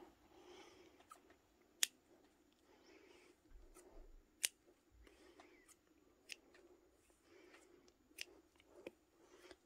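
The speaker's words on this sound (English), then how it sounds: "we're going to cut 3 or 4 strands of white" Scissors snip strands of white yarn, a handful of sharp, separate clicks spaced a second or two apart, close but quiet against a soft background.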